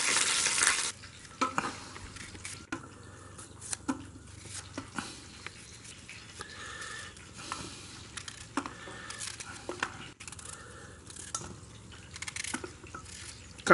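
Oil sizzles and crackles steadily as fish fries in a pan by a river, with intermittent scraping and stirring sounds from a utensil close by.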